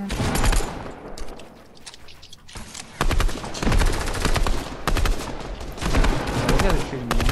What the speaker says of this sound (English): these guys are shooting me anyway, though